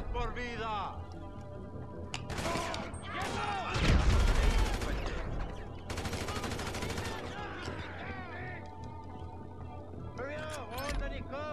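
Gunfire and explosions in a GTA 5 Online shootout, with loud bursts of automatic fire and heavy blasts around the middle, under near-constant excited talk.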